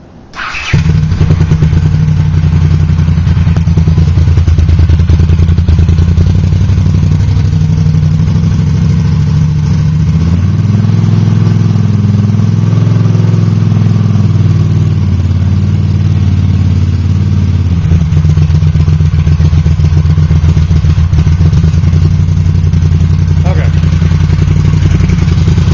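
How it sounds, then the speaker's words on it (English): Cold Honda CX500 motorcycle engine running without mufflers, a loud, steady, rough idle close by with a slight rise in revs midway, while someone talks over it. "So I'm not going to rev the heck out of the motor because it's cold."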